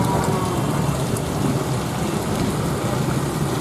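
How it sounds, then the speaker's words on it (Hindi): Heavy rain pours down steadily during a monsoon downpour in Rewa, a dense continuous hiss close by with no pauses and no voices. "अभी बारिश हो रही है कई घंटों से।"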